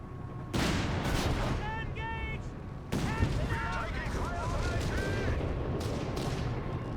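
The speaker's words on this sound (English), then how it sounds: "The ambush machine gun here." Machine gun fire and artillery in the World War II strategy game Company of Heroes 3, as repeated bursts and booms under sustained battle noise, while a caster talks over it.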